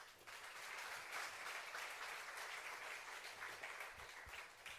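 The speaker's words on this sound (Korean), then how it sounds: "뜨겁게 박수해 주시죠" A church congregation at Yeouido Full Gospel Church claps warmly to welcome a preacher to the stage, a sustained, fairly soft wash of applause with a few sharper claps near the end.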